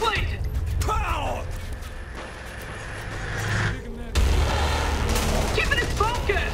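Gunfire from the game Saints Row the Third, with bursts of shots and explosive booms across a loud, busy action soundscape that shifts midway into heavier rumbling.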